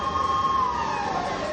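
Fire truck sirens wail while responding to a predawn residential fire in Barangay Addition Hills, Mandaluyong City, with a steady gliding tone over a constant background of traffic and crowd noise.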